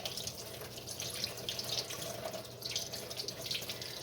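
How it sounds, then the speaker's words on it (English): Water runs steadily from a tap as a glass canning jar, brought up from a basement, is rinsed in a kitchen sink, a continuous close splashing hiss with no talking. "I should rinse my jar just because it's been sitting down in the basement."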